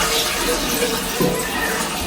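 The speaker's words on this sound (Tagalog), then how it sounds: "Pinuhusan lang muna po ng tubig" Water poured over newly laid floor tiles at a house, a steady broad wash of splashing and running water throughout, with faint voices in the background.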